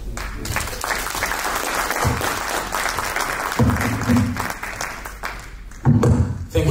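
Audience at a Black History Festival breaks into sustained applause for an honoured guest, loud and continuous clapping with a few bursts of voices and cheering mixed in.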